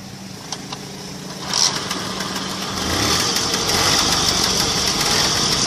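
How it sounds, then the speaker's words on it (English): A Lambretta 150 scooter engine, started by hand, settling into a steady idle: an initial rough sputter and a sharp catch, then a continuous mid-pitched running drone that grows slightly louder and holds. "So this is the performance of the engine."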